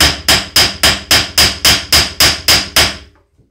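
Loud, bright clangs of a hammer forging iron for a burner tip, worked on both sides, about eleven evenly spaced strikes in quick succession, close and unaccompanied by speech, ending with a brief ringing tail.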